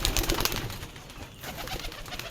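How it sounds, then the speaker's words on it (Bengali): Local domestic pigeons coo softly amid a busy background of fluttering and rustling, a low continuous murmur of several birds close by, without speech. "ওইসব দেশি কবুতর"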